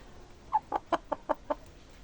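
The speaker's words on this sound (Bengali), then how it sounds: "আমাদের মুরগি তো তোমাদেরকে দেখালাম" Hens cluck in a quick series of six short, close, distinct clucks evenly spaced over about a second, with quiet background between them.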